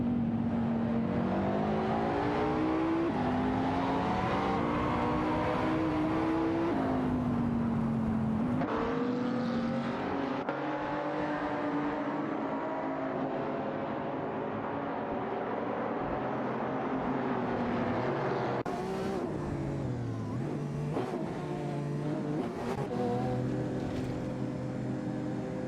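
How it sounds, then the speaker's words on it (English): Race cars, including a Lamborghini Murcielago ST, in a video game race, with engines droning and revving continuously, pitch rising and falling through gear changes over a sustained loud mix. "Sidrek in the Lamborghini Murcielago ST is closely competing with Komodo 3 for the 14th spot"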